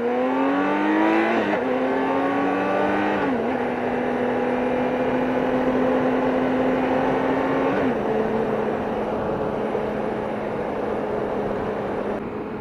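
Steady engine drone and wind rush from a 2023 BMW K1600 GTL touring motorcycle at cruising speed, with a couple of gear-change dips in pitch, loud and continuous throughout.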